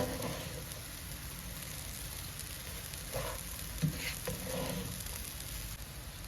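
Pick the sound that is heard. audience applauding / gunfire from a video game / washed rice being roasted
washed rice being roasted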